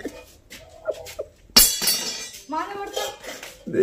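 Metal dishes and utensils clatter and clink nearby in a home, with a sharp crash partway through. Voices talk over the clanging.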